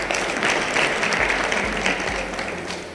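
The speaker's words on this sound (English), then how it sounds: "I think you must give yourselves a round of applause." Audience applauds at a public service women empowerment event, a steady, fairly loud wash of many people clapping together for a few seconds, with low thumps underneath.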